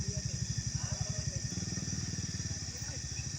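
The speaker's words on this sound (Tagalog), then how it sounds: "parang may naririnig po akong motor dito tol" Motorcycle engine running nearby with a rapid, even pulsing putter, fairly faint and steady, its note shifting slightly partway through.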